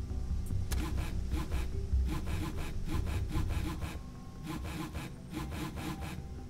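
Steady back-and-forth hand sawing through tree branches in a video game, the strokes repeating in an even rhythm, loud and close throughout with no talk.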